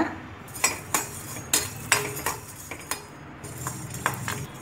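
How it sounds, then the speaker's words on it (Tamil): Coriander seeds dry-roasting in a pan while being stirred give repeated sharp clinks and scrapes of a utensil on metal in an uneven rhythm, close and clear with no speech. "அடுத்து தனியாக போட்டு வறுத்துக்கோங்க"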